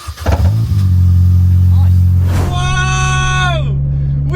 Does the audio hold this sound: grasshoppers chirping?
no